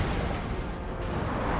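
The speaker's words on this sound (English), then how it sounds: "We'll switch them all to chain shot." Warship cannons fire chain shot in Empire: Total War, a dense, continuous rumble of booming broadside fire with no gaps or voices.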